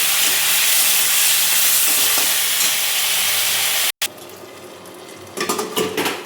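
Potato and eggplant frying with spices in a pan, a loud steady hiss and sizzle that cuts out abruptly, then returns quieter with clinking utensil scrapes and stirring.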